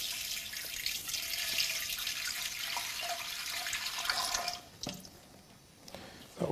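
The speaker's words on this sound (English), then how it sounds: "so pour my water in." Water pours steadily into a container while mixing plaster for lost wax casting, a continuous splashing rush that stops partway, followed by a few faint drips and knocks.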